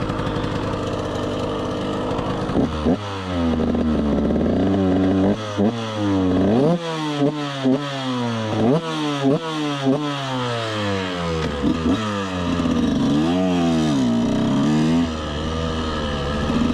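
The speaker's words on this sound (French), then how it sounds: "En vrai, elle marche super bien cette petite moto." A KTM 125 SX dirt bike engine idles, then revs up repeatedly in quick bursts, loud and close, each rev rising and falling in pitch.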